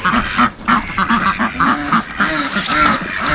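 A duck on an Iowa goat farm in January quacks in a rapid, rhythmic series of loud nasal calls close to the listener, continuing steadily throughout.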